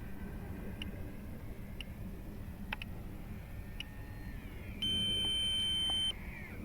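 Electronic beeping from an RC flight timer counting down beside a flying FMS Ranger 1220mm model plane, a steady tone pulse near the end over constant outdoor wind and motor hum, with a few faint ticks earlier.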